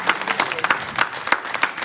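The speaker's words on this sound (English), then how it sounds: "Round of applause." Townspeople at a UniteNC town hall in Havelock, North Carolina give a round of applause, a brief burst of steady, close clapping lasting under two seconds.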